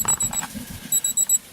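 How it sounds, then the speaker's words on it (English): An electronic device near a Dyna Glo smoker cooking roast pork emits rapid high-pitched beeps in two short bursts, fairly loud and alone. "I don't know why it's beeping like that"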